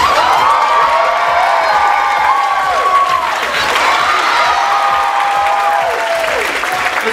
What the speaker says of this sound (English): Let's give a warm round of applause for Malakas and Maganda.